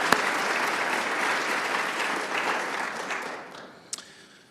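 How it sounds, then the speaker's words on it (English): An audience at a civic event claps in a dense, sustained round of applause that gradually thins and fades, with a few last claps near the end. "let's please give them a round of applause"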